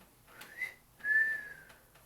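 A person whistles two rising-and-falling tones in imitation of an eerie whistle, the second longer and louder, clear and close in an otherwise quiet room.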